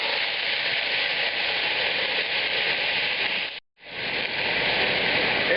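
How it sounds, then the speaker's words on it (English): Tomato passata poured into a very hot pan behind a splatter guard gives a loud, steady sizzle and crackle close up, cutting out for a moment before roaring back. "as soon as the initial splattering is done"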